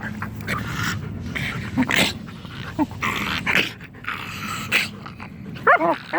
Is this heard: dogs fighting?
yes